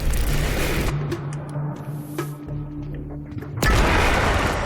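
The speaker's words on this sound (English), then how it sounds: "we just heard an explosion near the harvesting perimeter" Explosions in Quantum Break near a harvesting perimeter: a dense, loud roaring blast opens, eases into a rumbling lull with faint tones, then a second heavy burst hits near the end.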